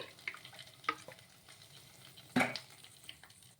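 Green chillies softening in a little oil in a kadai, quiet soft frying with occasional stirring scrapes and a sharper clink of a utensil against the pan, no talk.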